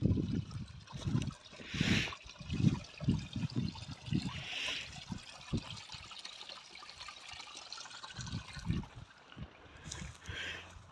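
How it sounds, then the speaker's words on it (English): A small waterfall trickles faintly near Meltham Cop, a soft steady dribble partly covered by nearby handling noise and bursts of rustle. "Beautiful little waterfall."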